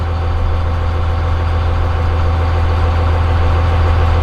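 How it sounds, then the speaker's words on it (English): A Cummins diesel truck engine holds a steady high idle around 1300 RPM, giving a loud, continuous low rumble with an even mechanical chatter close by. No one talks. "So there's a high idle right there, just kicked on. Right around 1300 RPM."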